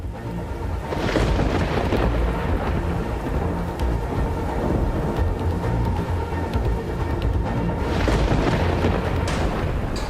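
Heavy, steady rain roars over a deep rumbling wash of a very rough sea, with surges swelling near the start and again toward the end, like a storm on a ship's deck.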